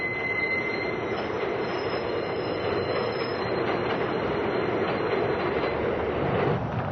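A subway train rumbles steadily past with a high, sustained wheel squeal over the clatter, loud and close throughout.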